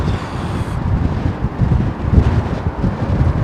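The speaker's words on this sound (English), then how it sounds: "Marjorie Neri, wind's dying down a bit, just a gentle breeze here now." Strong gusting wind at London Heathrow Airport, a steady loud roar with buffeting rumble against the microphone and no voices.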